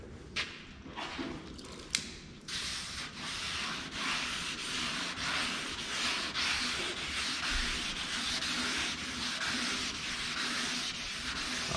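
Rhythmic back-and-forth strokes of wet sandpaper rubbed by hand over the painted body of a Chevrolet Biscayne, close and steady, after a few knocks at the start.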